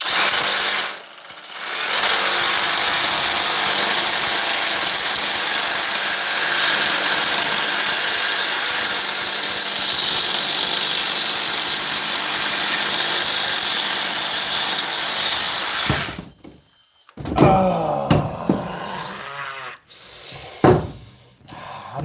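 A Sawzall reciprocating saw, held one-handed, cuts through scrap metal with a loud, steady, harsh buzzing drone that runs for about sixteen seconds. After it stops, a few short metallic clanks and rattles follow.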